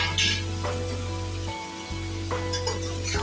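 Crushed ginger and garlic sizzling and frying in a pan for a chicken stew, a soft steady crackle with occasional stirring scrapes, close and fairly quiet, with no talking.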